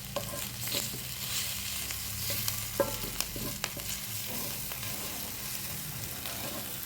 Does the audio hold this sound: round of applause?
no